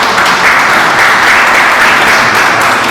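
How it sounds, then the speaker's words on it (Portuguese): A room full of people claps steadily for Carlinhos, a loud, even burst of applause filling the whole span with no pause or talking. "uma salva de palmas para o Carlinhos com essa preocupação"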